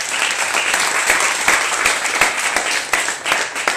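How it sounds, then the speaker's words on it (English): Audience applause for competition participants at a startup pitch event, a dense, steady wash of many hands clapping, close and loud, with a few sharper individual claps standing out and a faint voice or two underneath. "we need to clap hands for them"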